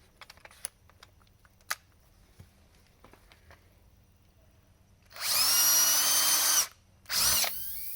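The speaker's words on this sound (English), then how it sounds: "This is a 1/8 inch drill bit." A power drill with a 1/8 inch bit boring into a leaking car tire, two loud close whining bursts, a long one and then a shorter one after a brief gap, preceded by faint clicks and handling noises.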